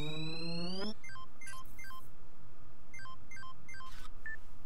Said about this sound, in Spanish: vamos a llamarle al teléfono